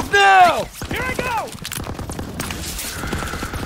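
Bursts of gunfire rattle through a Call of Duty WWII battle scene, with a machine gun pinning down the attackers. Loud shouted voices come first, then the dense, crackling fire carries on steadily under continued voices.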